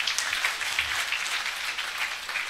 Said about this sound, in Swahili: Si kama nikupiga makofi upige tu ile ya kweli.